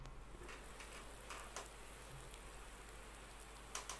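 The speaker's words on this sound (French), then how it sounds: "on est sur la grille de départ à Houlton Park et il pleut" Rain patters steadily in the Project Cars 2 racing game on the starting grid at Oulton Park, a soft, even hiss with a few faint ticks, quiet and continuous without speech.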